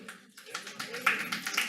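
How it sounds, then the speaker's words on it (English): Audience members at a city council meeting clap in a brief patter of applause, building from sparse, faint claps into a denser burst. "No applause, please."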